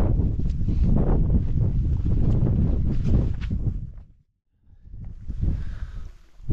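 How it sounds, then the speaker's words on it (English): Strong gusting wind buffets the microphone on a mountainside in the Lake District's Crinkle Crags during rainy wild camping, loud roaring blasts that drop away briefly to near silence before picking up again. "There's quite a strong wind coming through, so I've just sort of hidden myself behind this rock."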